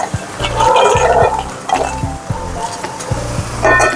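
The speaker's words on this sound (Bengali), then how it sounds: "বড়িগুলো দিয়ে কষিয়ে নিই" Vegetables with bori lentil dumplings are stir-fried in spices in a pan for a vegetarian potato-eggplant dish, giving a steady sizzle with repeated clinks and scrapes of a utensil against the pan, close and fairly loud, with no talk.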